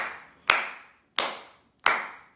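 Three separate hand claps ring out clearly, each a sharp close smack with a short decay, spaced under a second apart, with no voices over them.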